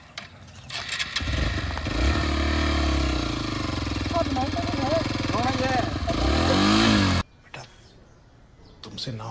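Hero XPulse 200 4V Pro motorcycle engine running loud and close during off-road riding, with a steady roar that rises and falls through gear shifts before cutting off abruptly; voices speak over it.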